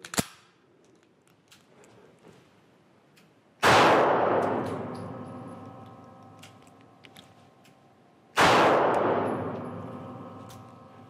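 Two loud pistol shots from a CZ 2075 RAMI fired in double-action mode, spaced about five seconds apart, each a sharp crack with a long ringing decay, with a faint click before the first.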